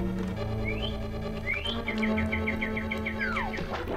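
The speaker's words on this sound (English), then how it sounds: "That's my alarm to do push-ups." An alarm with a bird-chirp tone sounds amid game background music: a few rising chirps, then a quick run of repeated tweets and a falling whistle, moderately loud and steady over four seconds, with no talking.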